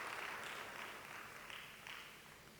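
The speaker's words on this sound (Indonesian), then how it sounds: "Beri tepuk tangan yang meriah buat nama Tuhan." A church congregation applauding during a Sunday worship service: a soft, distant wash of many hands clapping that tapers off slightly.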